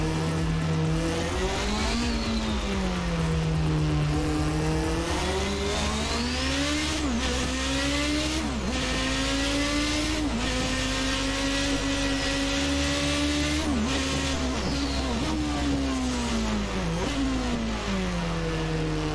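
Toleman T184 Formula 1 car in Assetto Corsa, its engine screaming loud and close, then blipping repeatedly as it downshifts, pitch dropping in sharp steps between rising pulls, with no voices.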